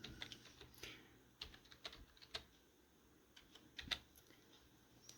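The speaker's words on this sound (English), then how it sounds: "We're going to type in a password." Quiet, close keystrokes on a computer keyboard while a password is entered on a Linux Mint login, an irregular patter of light taps with short pauses and no voice.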